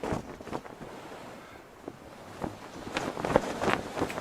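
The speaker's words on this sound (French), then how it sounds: "je trouve que le son de la voile, il est bien" A sailboat cuts through the sea in the video game Tropical Escape, with a steady rush of wind and waves and soft flapping from the sail, rising a little toward the end.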